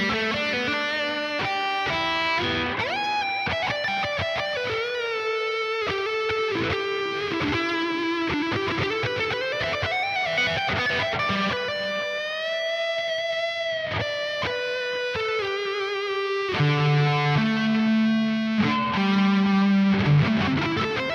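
A Stratocaster electric guitar plays a melodic lead line with long sustained notes and bends, washed in reverb and echoing delay trails, heard alone.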